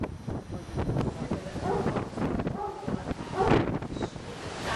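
Blustery outdoor wind buffets the camera microphone at Glastonbury with constant low rumbling gusts that swell and fade, while voices talk faintly underneath.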